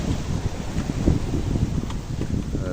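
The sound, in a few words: wind at sea on a sailboat, about 20 knots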